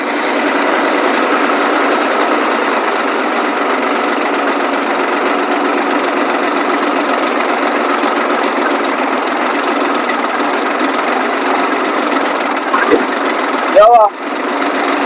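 An old tractor engine runs at a steady, loud idle-like drone for about fifteen seconds, with a brief clunk and rattle near the end.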